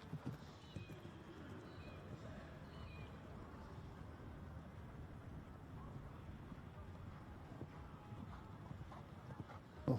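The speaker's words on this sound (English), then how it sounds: "A big grey horse back out here again of Amy Shadbolt's Alpha Proxima" Steady hoofbeats thud across soft ground in the main arena at the Royal Adelaide Show under a wash of distant crowd murmur and wind, continuous and moderately far.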